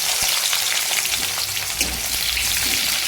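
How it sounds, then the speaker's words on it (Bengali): Raw onion drops into hot mustard oil in a pan, giving a loud continuous sizzle and crackle of frying with light stirring scrapes, heard close up with no talking. "কাঁচা পেঁয়াজ দিয়ে দিচ্ছি তেলের মধ্যে।"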